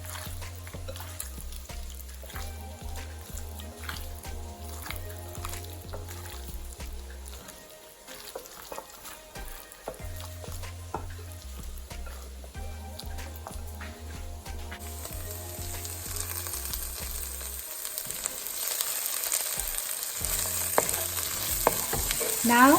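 Onions frying and being stirred in a pan for a chicken curry, with a steady sizzle and scraping stir strokes that grow louder and brighter toward the end, heard alone without speech.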